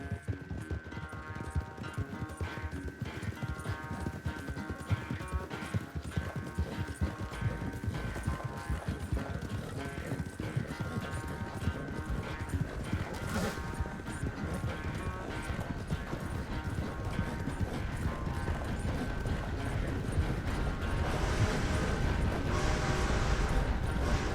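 Horse hooves galloping in the video game Red Dead Redemption 2, a rapid rhythmic clip-clop running throughout with creaking tack and mechanical noise, growing slightly louder toward the end.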